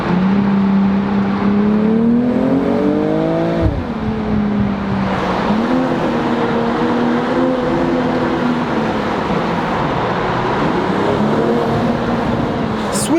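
A BMW M2 engine hums steadily from inside the car in comfort mode, its exhaust note rising and falling with gentle revs, a continuous throaty drone with no talking.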